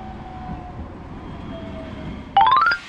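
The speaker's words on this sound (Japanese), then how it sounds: "それでは路面電車に乗りまして" A tram in Matsuyama rolls along with a steady low rumble and faint hum inside the car, then a short rising electronic chime or motor whine sounds near the end.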